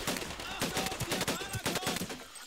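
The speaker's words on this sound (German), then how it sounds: "Keine Ahnung, von wo ich schon wieder angeschossen werde" Rapid bursts of gunfire in Medal of Honor: Pacific Assault crack repeatedly in an irregular rhythm, some shots close and punchy, others layered behind, with no talk over them.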